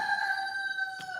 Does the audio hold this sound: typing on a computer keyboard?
no